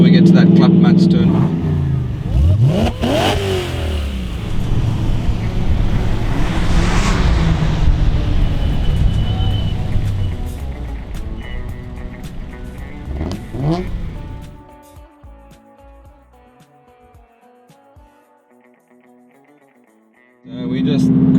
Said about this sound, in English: We're just cruising on the N1 highway, somewhere between 80 and 100 kilometers.